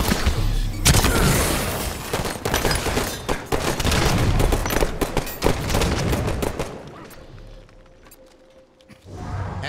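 Heavy bursts of gunfire and explosive booms fill a Halo match, dense volleys crackling almost continuously before thinning into scattered shots and a quieter stretch near the end.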